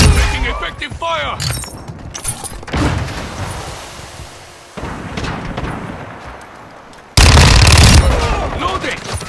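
Call of Duty Modern Warfare 2 multiplayer gunfire: loud, close bursts of automatic fire and impacts with abrupt cuts between them, mixed with in-game voice callouts and a final heavy, sustained blast of shooting.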